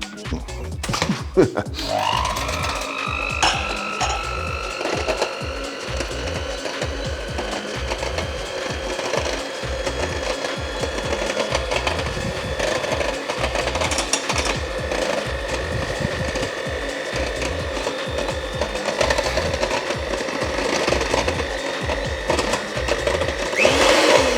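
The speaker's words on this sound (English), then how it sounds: "just give this a gentle whisking to the custard" An electric whisk whirs through custard with a busy, buzzing motor drone and a rattling clatter against the bowl, running almost without pause and growing slightly louder toward the end.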